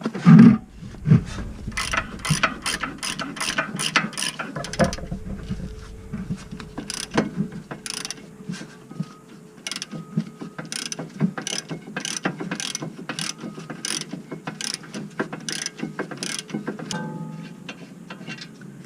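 A ratchet wrench loosens the rear brake caliper holder bolts on a 2011 Ford Explorer, giving a quick series of sharp, rhythmic clicks close up after an initial louder effort, with no talking.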